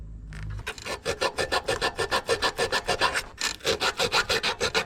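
Electrical spade connectors on a Wheel Horse 520 garden tractor are scrubbed clean with quick, rhythmic rasping strokes, close and fairly loud, with a brief pause partway through.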